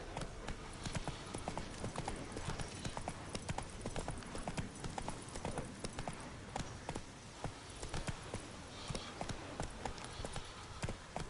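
Horse hooves galloping steadily in The Witcher 3, a fast rhythmic clip-clop running throughout at close range, with faint voice traces mixed in.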